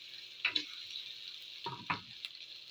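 Luncheon meat being stir-fried in a home kitchen pan, with a few soft scraping stirs and clanks over a faint steady sizzle, fairly quiet and close.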